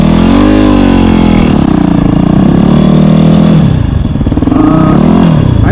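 Yamaha WR250R dual-sport motorcycle on 17-inch supermoto wheels, riding with a loud close engine note that rises and falls through revs, with wind roar throughout.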